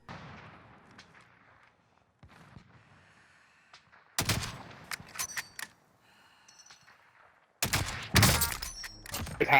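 HDR sniper rifle fire in Call of Duty Warzone, with faint distant battle noise giving way to two sudden loud cracking bursts of gunfire with clattering echoes and rattling debris.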